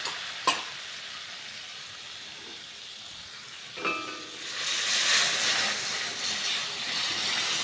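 Bitter gourd and masoor lentils fry in a pan, a soft sizzle punctuated by two sharp stirring knocks before the hiss swells louder and steadier in the second half.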